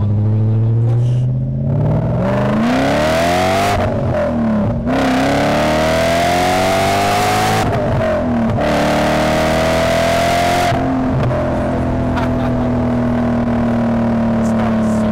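A BMW E39 M5 four-door sedan's engine revs hard under acceleration, loud and close, its pitch climbing through several gears with brief dips at each shift, no talk over it.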